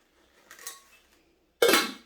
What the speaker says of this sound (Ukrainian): Давайте я одного відкрию та й покажу ось така каструлька